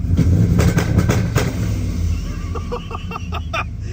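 A car engine with a stuck-on two-step launch limiter revs loudly with popping bursts, then settles into a rapid stuttering series of sharp pops.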